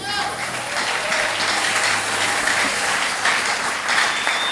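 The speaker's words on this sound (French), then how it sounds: "Acclamons très fort pour Jésus" A church congregation at a French-language Sunday service bursts into sustained, loud applause for Jesus, a dense continuous clatter of clapping with voices mixed in underneath.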